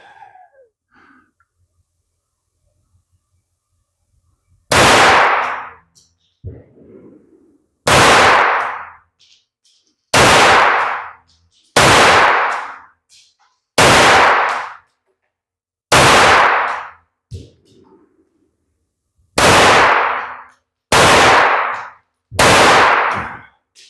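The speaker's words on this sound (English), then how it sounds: "We got somebody outside shooting." Loud gunshots from CCI and Magtech ammunition being test-fired, about nine sharp reports spaced a second or two apart, each ringing briefly before silence, with no talking in between.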